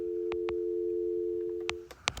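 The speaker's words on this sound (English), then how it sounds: "the dial tone" A vintage rotary telephone giving a steady dial tone for almost two seconds, then cutting off, with a few sharp handset clicks and knocks close by and no speech.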